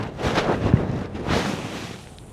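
Wind gusts buffet the microphone at an outdoor rifle range, a rough broadband rumble that swells and eases over a couple of seconds, with no voices.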